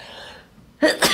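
A single sharp sneeze breaks in at close range after a quiet, faintly humming pause, with a quick two-part burst of breath and voice near the end.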